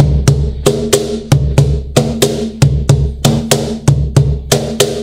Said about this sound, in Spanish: Y la saya o tuntuna básicamente suena así.